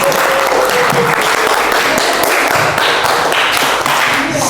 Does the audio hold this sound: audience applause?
yes